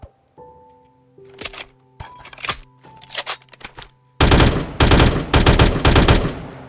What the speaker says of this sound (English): So the M16A4 is burst 3 rounds at a time.